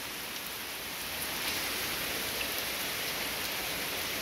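Steady rain falls outside beside a porch, a dense, even hiss of drops pattering on surfaces that continues without a break.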